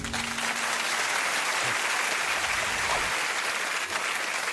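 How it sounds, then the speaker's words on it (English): Studio audience applause at a television panel show, a sustained wash of clapping from a full crowd that holds steady at moderate volume throughout. "That sound of the applause there is what you're looking for tonight."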